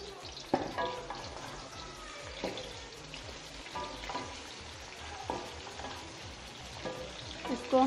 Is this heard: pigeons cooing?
no